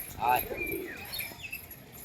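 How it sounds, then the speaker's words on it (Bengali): A pigeon gives one soft, low coo close by on a rainy day, followed by faint chirps and light background noise. "সুখচাঁদ ভাই বসে বসে নামাচ্ছে দেখা যাক পায়রাটা নামে কিনা"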